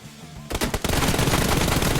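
M416 rifle fire in a one-on-one team deathmatch mobile shooter game: after a quiet start, loud rapid automatic bursts erupt and continue in a dense, sustained rattle.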